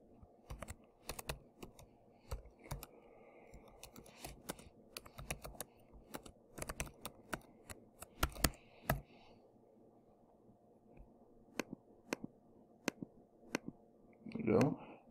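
Quick irregular keystrokes clatter on a computer keyboard while code is entered, bursts of sharp clicks with short pauses, close and fairly quiet, with a soft voice present at times.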